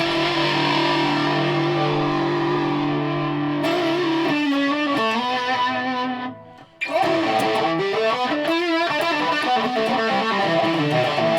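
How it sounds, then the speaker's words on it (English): A distorted electric guitar through a PRS Wind Through the Trees effects pedal, sustained gritty chords, a brief pause, then bending, wavering notes continuing loudly. "Maybe with distortion it starts to sound a bit more like your multi-effects units."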